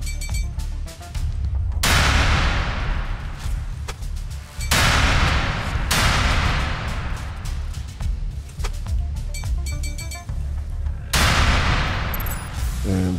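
Grenades explode in the sci-fi shooter From Space: several loud, booming blasts land a few seconds apart over a constant, dense din of gunfire-like combat noise.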